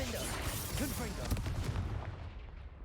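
Confringo fire spell blasts cast in combat in the wizarding game Hogwarts Legacy, a dense run of booming, crackling explosions and impacts over game music, with a few pitched voice or sound-effect sweeps midway, fading toward the end.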